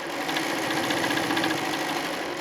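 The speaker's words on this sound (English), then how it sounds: "We're going to sew down to the quilt tack." A sewing machine sews steadily through a quilt, a continuous, close, dense mechanical whir with a fast, even pulse and no pauses or voices.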